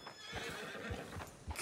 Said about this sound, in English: That horse is about to run off or kick.